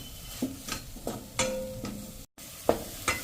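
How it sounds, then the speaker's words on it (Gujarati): A spoon scrapes and stirs onions dry-roasting in a pan without oil or ghee, a series of distinct scraping strokes with light sizzling and occasional metal clinks, close and without voices. "તો આમ જો આપણે કન્ટિન્યુ કાંદાને પણ ચલાવતા રહ્યા છીએ"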